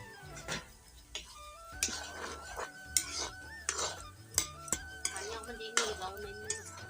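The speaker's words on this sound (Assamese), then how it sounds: "এতিয়া আমি তেল মাৰিছোঁ ধুনীয়াকৈ মছলা দি।" Spices frying in oil in a pan, with a spoon scraping and clinking against the metal in irregular stirring strokes over a soft sizzle, close and fairly quiet.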